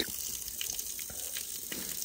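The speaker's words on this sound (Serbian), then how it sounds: "Jezero i voda koja curi." Water trickling and dripping beside a mountain lake, a steady close wash of running water with faint drip-like ticks throughout, no voices.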